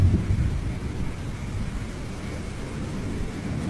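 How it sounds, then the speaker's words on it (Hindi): Heavy rain hisses steadily while a low thunder rumble rolls underneath, constant and enveloping with no voices. "आसमान में घने काले बादल छा जाते हैं और थोड़ी ही देर में जोरदार बारिश शुरू हो जाती है।"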